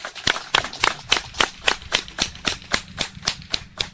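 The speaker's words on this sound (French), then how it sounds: "Est-ce qu'on peut applaudir pour notre chef ?" An audience at a village gathering claps for their chief in a crisp, steady, rhythmic beat, with sharp, loud strikes about three or four per second.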